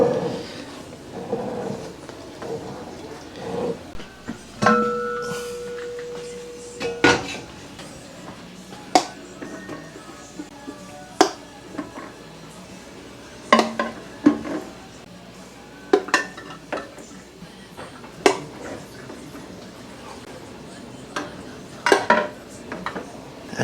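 Glass jars of turkey stock having their metal canning lids snugged down, a series of scattered clinks, taps and scrapes of glass and metal at close range, with quiet pauses between.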